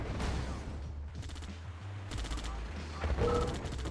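Tank battle in the Red Alert 2 strategy game: rapid repeated cannon and gunfire bursts with rumbling explosions, dense and continuous throughout.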